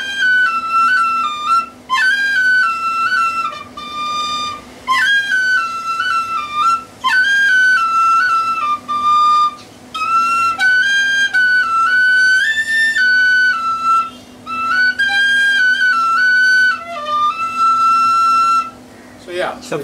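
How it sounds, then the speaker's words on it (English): A Feadog Celtic tin whistle plays a bright, high-pitched melody of short phrases with brief breaks, loud and close, with no talking over it. "It's a Feedog tin whistle. So this is a Celtic tin whistle."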